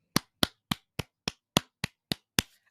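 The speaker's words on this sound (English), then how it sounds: "Let's see if I can clap." Nine sharp, evenly spaced single hand claps ring out alone in a quiet room, each one crisp and close with a short decay.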